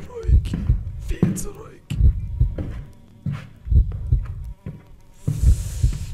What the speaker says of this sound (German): Mein Herzschlag.